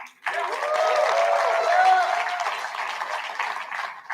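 Sustained applause from a crowd at the Enactus United States 2022 National Exposition, steady clapping throughout with a voice speaking over it.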